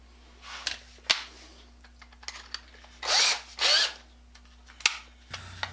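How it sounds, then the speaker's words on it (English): A cordless battery drill bores a hole through a piece of steel plate in two short, loud bursts of high whining, surrounded by quieter clicks and handling knocks. "just to drill a hole through this piece of steel plate"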